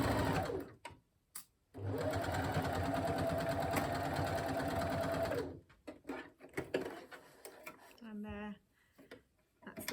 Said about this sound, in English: Last little bit of sewing.